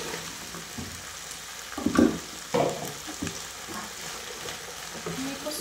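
Mixed vegetables hit a hot frying pan in a Filipino home kitchen, setting off a loud burst of sizzling followed by stirring clatter and a steady crackle that keeps going underneath.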